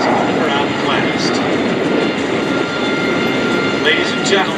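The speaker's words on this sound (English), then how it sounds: "the MiG-17 in the air" A MiG-17 jet fighter flies overhead at an air show at MCAS Cherry Point, its loud, steady engine roar filling the air while an announcer speaks over it.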